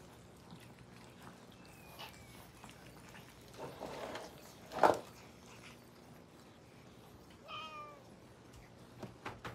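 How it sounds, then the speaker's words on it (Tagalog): Kittens mew faintly, a few thin high cries scattered over quiet room noise, with a brief louder scuffle near the middle and no talking. "May mga kuting-ting."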